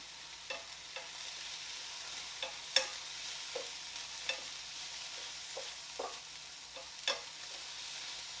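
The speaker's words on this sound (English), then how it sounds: "What I'm going to do with the fat is toss it in the pan with this right here." Trimmed meat fat fries quietly in a pan, a faint continuous sizzle dotted with small scattered pops and ticks.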